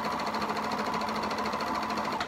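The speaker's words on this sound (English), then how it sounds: "I'm able to serge a really long amount without having to put pins in and out" Serger sewing machine running continuously along fabric edges, a fast steady mechanical whirring and rapid stitching rhythm, close and even throughout with no voices.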